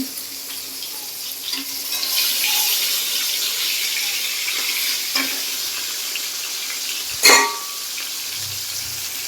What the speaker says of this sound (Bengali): রুই মাছ ভাজছি